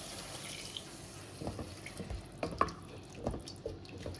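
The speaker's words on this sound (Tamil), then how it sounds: "இப்போ வந்து தண்ணி ஆட் பண்ணிக்கிறேன்." Water trickles and splashes faintly, poured into a pan of plain salna gravy, with a few soft splatters and drips.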